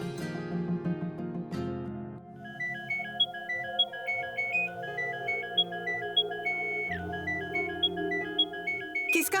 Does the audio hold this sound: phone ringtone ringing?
yes